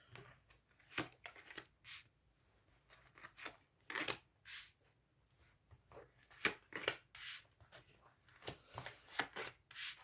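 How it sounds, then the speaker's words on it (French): Tarot cards slide and rub across a table as they are spread out, a run of soft papery swishes and brief scrapes at an uneven pace, close and quiet, with no talking. "je vais étaler les cartes"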